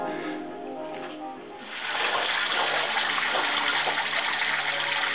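Water runs steadily through a garden fountain, a soft continuous splashing that grows fuller and louder partway through, heard alone without talk.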